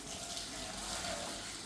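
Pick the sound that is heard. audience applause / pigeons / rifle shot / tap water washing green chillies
tap water washing green chillies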